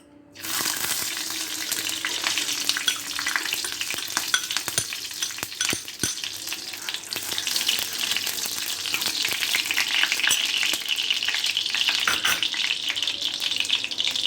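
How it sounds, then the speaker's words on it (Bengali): Ghee heats in a hot kadai before ripe bananas go in for banana chira sondesh; a dense, steady frying crackle runs throughout with occasional spoon taps and scrapes, close by and without talk. "এর মধ্যে 2 চামচ পরিমাণে ঘি দিয়ে দিচ্ছি।"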